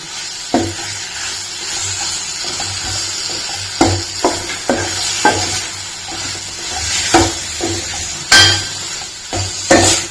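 Curry leaves sizzle in hot oil for tomato rasam, giving a loud, steady crackling hiss broken by sharp spoon-against-pan clinks and stirring scrapes.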